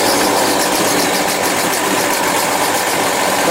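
A Craftsman 25cc 17-inch weedwacker's two-stroke engine idles steadily and evenly at close range, a loud continuous buzz with no talking.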